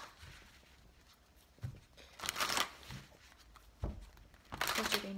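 Tarot cards are shuffled and drawn in brief papery bursts, a couple of louder riffles near the end, with quiet pauses between them.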